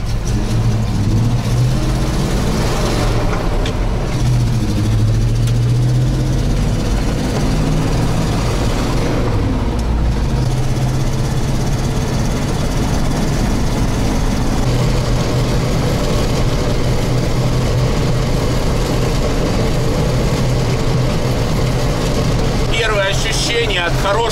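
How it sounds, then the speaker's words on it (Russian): Ural engine in a T-74 crawler tractor running and pulling under load, a loud steady low drone with rising revs, heard up close throughout with people talking over it. "чувствуется ураловский мотор сразу"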